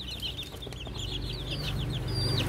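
Hens and young chicks in a backyard poultry setup cluck and chirp in a steady chatter, with repeated high chick peeps over low clucking throughout.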